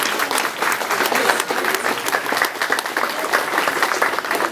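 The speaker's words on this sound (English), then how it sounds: "give them a big round of applause for the work they do" Sustained applause from a dinner audience, steady and dense throughout with no pauses, the clapping crowd filling the room at close range.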